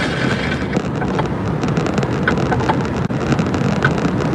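Rain falls steadily on a truck in the countryside, heard from inside the cab as a constant dense patter with scattered louder drops and a low rumble, loud and even throughout.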